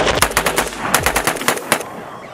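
An AK rifle fitted with a Franklin Armory BFSIII binary trigger fires a rapid string of roughly a dozen sharp, loud shots in quick paired rhythm, close and alone, ending abruptly.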